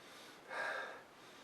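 A single short sniff taken close up over a glass of amber IPA from Dragoon Brewing, a brief breathy rush rising and fading over half a second against quiet room tone.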